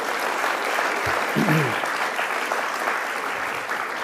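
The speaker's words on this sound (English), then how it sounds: "Let's give them a big round of applause" Applause from an audience at an evening literary event during the Miami Book Fair at Miami-Dade College, sustained dense clapping throughout, with a short voice cutting in briefly near the start.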